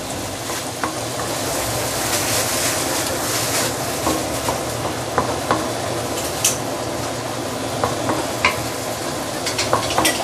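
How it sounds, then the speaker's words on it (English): Chili paste sizzles and is stirred in a hot wok while cooking the base for a spicy tamarind pomfret dish. A constant loud frying hiss runs throughout, with scattered scraping clicks from the stirring utensil against the wok. "keep on stirring because you don't want it to get burned at the bottom of your wok"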